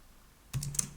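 A brief burst of typing on a computer keyboard, a few quick close key clicks after a quiet moment, no voices.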